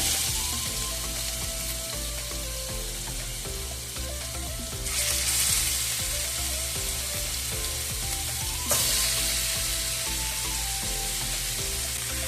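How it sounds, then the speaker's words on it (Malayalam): Fish fries in hot coconut oil with curry leaves, giving a dense, steady sizzle that fills the whole stretch and swells louder twice as the pan is disturbed, close by and with no talk. "പിന്നെ കുറച്ച് കറിവേപ്പിലയും കൂടി ഇട്ടതിന് ശേഷം നമ്മൾ മീനൊക്കെ ഒന്ന് ഇട്ട് കൊടുക്കുന്നുണ്ട്."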